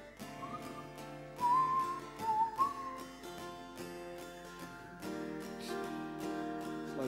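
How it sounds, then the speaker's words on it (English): Man whistling a wavering melody live on stage at a solo concert in a Paris concert hall, the clear whistled line rising and dipping over sustained instrumental accompaniment before the music swells on without it. "I'm going to whistle."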